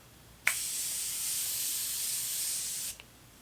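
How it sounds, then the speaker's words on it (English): A Morphe makeup setting spray bottle releases one continuous hissing mist of about two and a half seconds, close and clear, starting and stopping with soft pump clicks and no talking. "So I'm gonna go ahead and spray it now"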